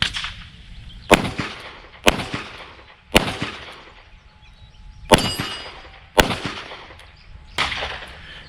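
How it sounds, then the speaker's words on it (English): A .357 revolver fires six sharp, loud shots at a steel target, spaced about a second apart, each crack followed by a short ringing decay outdoors. "I'm gonna shoot all 5 shots out of my 357 at the same distance over here."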